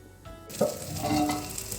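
Prawn kulambu curry with vegetables and chilli powder bubbling and sizzling in a pan, a steady close frying hiss with light stirring, no voices.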